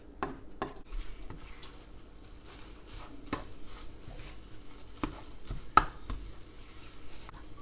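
Egg and ham frying in a pan in a home kitchen, with soft, low sizzling under scattered clinks and scrapes of a utensil against the pan, and one sharper knock near the end.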